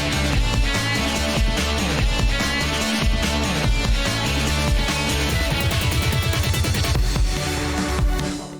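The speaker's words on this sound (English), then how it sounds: "I used it in this case to make this cool gated sound." Dense indie game music plays continuously, its melody chopped into a fast, rhythmic on-off stutter by a gated tremolo effect over a full backing track.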